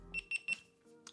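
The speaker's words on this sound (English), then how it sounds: "Beep, beep, beep." A GoPro MAX action camera powering on gives three short, evenly spaced electronic beeps, close and clear, followed by faint handling noise.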